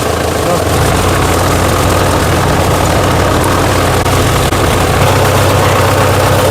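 A farm tractor engine idles with a steady low rumble throughout, loud and close, with a voice talking faintly over it.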